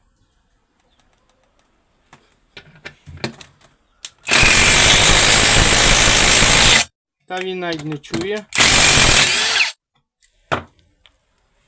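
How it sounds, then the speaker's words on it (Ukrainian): A Procraft PS 22 impact screwdriver drives carpentry roofing screws at speed setting four, with two loud sustained bursts of whirring and hammering impacts separated by a short pause, preceded by a voice and light handling noises. "шурупи загнати"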